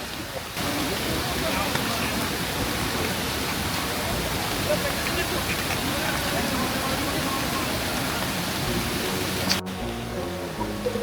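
A large river rushes through dense forest on the Chola trek near Trivandrum during rain. The flow is a loud, constant roar with no break, and a soft click comes near the end.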